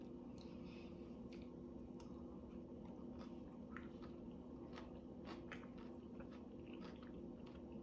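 Someone chews a cranberry blueberry salad dressed with balsamic vinegar, giving soft wet bites and faint crunches close to the mic over a steady low background hum.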